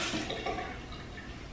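Water is poured over a child's bangs while her hair is being washed, a soft continuous splashing and trickling that stays close and steady throughout, with no voices.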